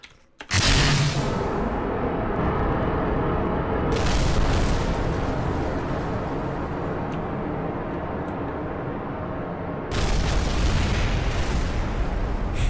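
A game rocket launches with a loud, sustained roaring blast that starts abruptly and carries on steadily, swelling again near the end, with no one talking over it.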